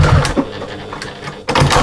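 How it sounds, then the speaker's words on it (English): A sewing machine makes a couple of short, close back stitches in quick bursts on an armchair sewing caddy, with a brief pause between them. "A couple of little back stitches."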